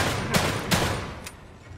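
Gunshots in The Evil Within 2, two loud close shots about a third of a second apart followed by a fainter third, over a dense noisy background.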